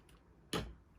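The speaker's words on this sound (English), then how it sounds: "I just cut off some ribbon." Ribbon snipped with ribbon scissors while wrapping a jewelry gift box, heard as a single close, sharp cut about halfway through, otherwise quiet.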